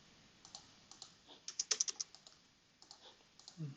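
Computer keyboard keys pressed in scattered, irregular taps, with a brief faster burst of clicks in the middle, close and fairly quiet with no voices.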